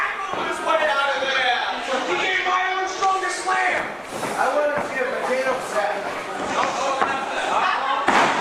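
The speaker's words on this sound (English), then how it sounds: "just slamming him into the canvas" A wrestler is slammed onto the ring canvas at a live wrestling event, with heavy thuds and impacts mixed under near-constant excited commentary and crowd noise.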